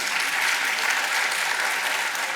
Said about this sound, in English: It's no cause for applause.